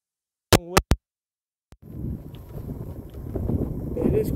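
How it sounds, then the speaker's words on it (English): Very strong wind buffets the microphone on a golf course at Barnard Castle Golf Club, a rough continuous roar that builds after a few brief knocks. "it's a very, very strong wind here at Barnard Castle"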